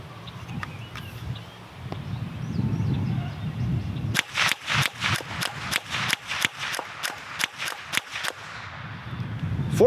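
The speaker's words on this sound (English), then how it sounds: "14 rounds, just about as fast as you can pull the trigger, and no issues with it" A Marlin Model 60 .22 rifle fires about fourteen rounds in quick succession, sharp close cracks in a steady rapid rhythm, with quiet handling noise before and no talk.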